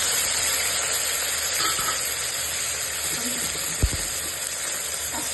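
Onions sizzle and fry in hot oil for a Hyderabadi mutton curry, a steady close hiss running without a break, with one brief knock partway through.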